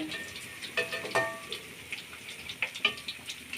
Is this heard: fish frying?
yes